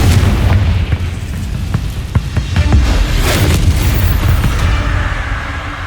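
Confringo spell explosions booming in Hogwarts Legacy, a dense run of loud blasts and bursts over constant rumbling combat noise, with no talking.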